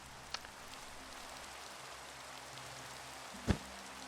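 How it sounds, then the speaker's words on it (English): Rain falls at night in a video game, a soft, steady hiss of drops that stays quiet throughout, with a faint tick early on and one sharp nearer thud near the end. "It's raining and it's nighttime."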